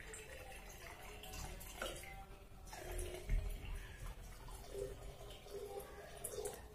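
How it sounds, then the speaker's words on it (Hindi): Water poured into the base of a Russian-style spider hookah, a steady splashing and trickling pour close by, running throughout without a break and with no talk over it. "ये मैंने डाल दिया इसके अंदर पानी"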